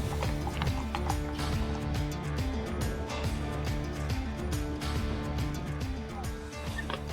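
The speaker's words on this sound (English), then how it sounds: "there's a horse coming, usually at speed" Steady clip-clop of horse hooves on a hard surface at a horse fair in Appleby, busy and continuous, with music or background noise running underneath.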